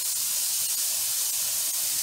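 Carne asada sizzles on a grill as a steady, loud, hissing crackle with no pauses and no talking.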